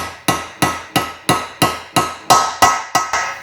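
A hammer drives a socket onto valve stem seals on a BMW E30 cylinder head with an M52 turbo engine, giving nine sharp, evenly spaced metallic taps close by, each ringing briefly before the next.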